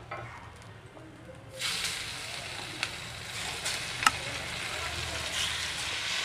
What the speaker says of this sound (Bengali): আর মাছগুলোকেও আমি এইভাবে ভেজে নেব।